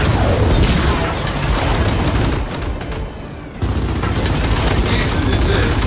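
Gunfire and a grenade blast erupt in the shooter game Gears of War 4, with dense rapid firing and booming impacts throughout, a brief lull, then the barrage resumes loud and close.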